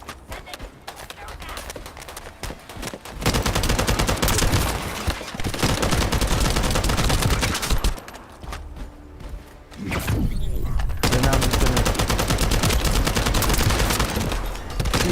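Rapid bursts of gunfire in a PS4 shooter game, loud dense volleys that come in long stretches broken by short lulls, with talk over them in places.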